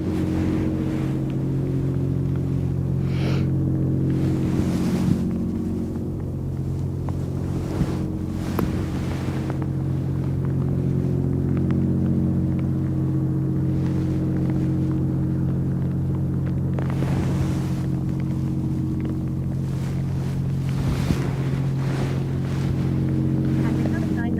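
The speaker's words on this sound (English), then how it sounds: "Some kind of oil and gas related vessel." A large oil and gas service, supply and tug vessel passes through rainy Aberdeen Harbour, its deep engine rumble droning steadily throughout, with wind and lapping water, near and constant.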